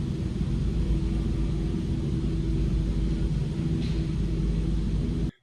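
Steady, loud roaring rumble of a simulated airplane engine at full throttle during takeoff in Microsoft Flight Simulator, a dense continuous drone holding level for about five seconds before cutting off abruptly.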